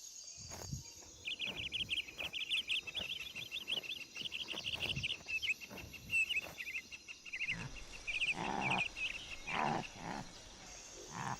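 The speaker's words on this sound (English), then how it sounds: "ears twitching occasionally when it hears the cicadas chirping around it" High, buzzing insect calls drone in steady rhythmic pulses, close and fairly clear, with no voices, like cicadas chirping in the heat.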